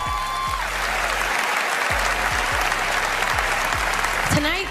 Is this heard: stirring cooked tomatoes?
no